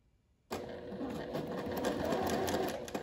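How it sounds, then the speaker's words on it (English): Sewing machine starts abruptly after a moment of quiet and stitches steadily along a creased fabric edge, a close continuous rapid whirring chatter. "I'm going to sew"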